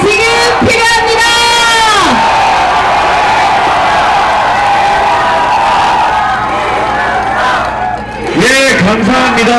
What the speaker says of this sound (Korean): 더 큰 함성이 지금 필요합니다.